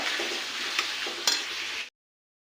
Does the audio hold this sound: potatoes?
yes